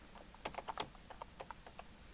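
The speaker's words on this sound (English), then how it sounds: "Type that in, keyboard entry." Fingers tap a computer keyboard in a faint, irregular run of light clicks, a few keys struck close together and then spaced out, with no voice over them.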